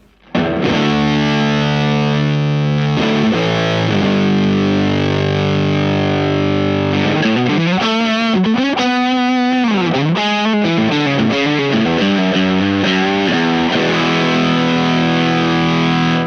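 Electric guitar through an IK Multimedia X-Drive fuzzy overdrive, sustained chords giving way to quick melodic runs, thick and saturated, played alone without voices.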